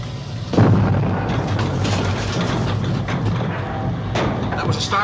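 A starboard turbine on a spacecraft explodes in a sci-fi film effect, a sudden heavy boom near the start that rolls into a sustained rumbling roar with further crackling bursts.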